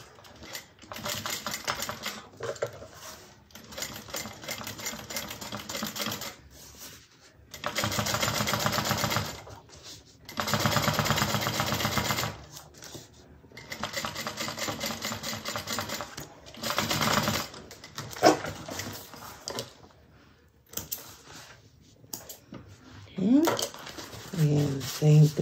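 A sewing machine top stitching a seam on a fabric bag, several sustained runs of rapid needle clatter broken by short pauses, close up, with a person talking between runs.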